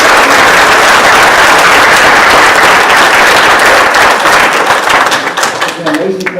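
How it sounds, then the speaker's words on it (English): An audience at a Women's History Month event in Monterey County bursts into loud, dense applause that stays strong, then thins into scattered claps and a voice near the end. "We give a big round of applause."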